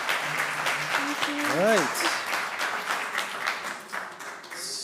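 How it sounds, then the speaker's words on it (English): Audience applause at a university business pitch competition, a sustained round of clapping from a seated crowd while someone speaks briefly over it and a rising tonal sweep sounds partway through. "Let's have a round of applause"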